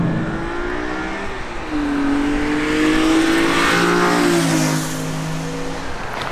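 A BMW E46 M3 CSL engine revs loudly and close, pitch climbing and falling through several throttle blips with a raspy, aggressive exhaust note.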